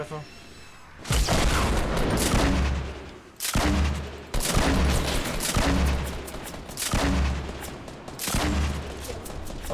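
Bursts of rapid gunfire in Fortnite come in several long, loud volleys separated by brief pauses, with players talking over the shooting.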